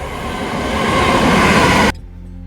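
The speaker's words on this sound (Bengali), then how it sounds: "ওই যে আমার ট্রেন চলে এসছে" A train rumbles loudly into a station in Greenwich, London, a broad steady roar building for about two seconds before cutting off abruptly, leaving a low hum.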